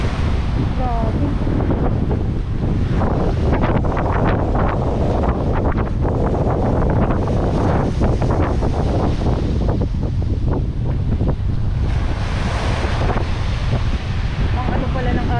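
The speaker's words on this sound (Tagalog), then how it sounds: "alon at hangin dito sa Manila Bay, sobrang lakas pa din po" Strong wind buffets the microphone as waves surge along Manila Bay, a constant loud roar of gusts and churning water with no pauses, while a person talks faintly beneath it.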